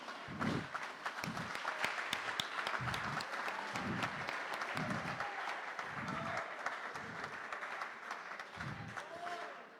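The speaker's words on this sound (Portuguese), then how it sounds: "Dê uma salva de palmas bem forte para Jesus." A church congregation gives a long, loud round of applause during a worship service, dense clapping filling the whole stretch with a few voices rising through it.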